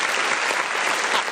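A dense, loud burst of applause from an audience on a live show, continuous clapping filling the whole moment.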